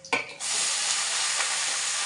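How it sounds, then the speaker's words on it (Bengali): Garlic fries in a pan, a brief knock at the start giving way to a loud, even, continuous sizzle. "রসুন ভাজা হয়ে গেছে"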